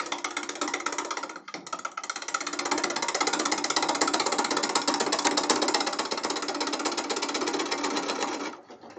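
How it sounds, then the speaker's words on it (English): A ball gouge cuts Sri Lanka rosewood spinning on a lathe, a steady buzzing, rattling chatter of tool on wood that starts after a short pause, runs continuously at close range, then stops near the end. "I'll start with the ball gouge, and I will start by flattening down a little bit."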